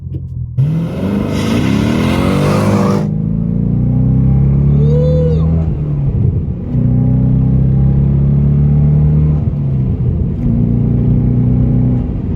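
A 2005 Corvette convertible accelerates hard through the gears from a pull-out, its engine loud and close, rising in pitch and dropping at each shift across several gear changes, with no talk over it.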